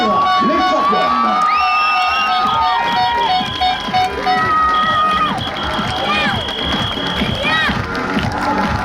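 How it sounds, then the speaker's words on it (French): Loud crowd at a women's horse-ball championship podium in Lamotte keeps applauding and cheering the champions, with shouts, whoops and high tonal calls over the steady din. "Allez, on continue à les applaudir,"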